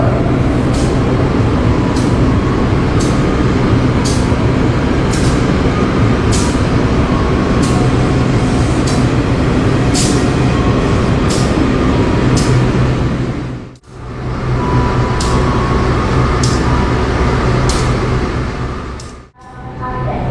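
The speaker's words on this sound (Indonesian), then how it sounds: "kereta api Bengawan dari stasiun Purwosari tujuan Pasar Senen" Bengawan passenger train from Purwosari to Pasar Senen, a loud steady rumble of railcars close by with repeated faint clicks and two brief dips in the noise.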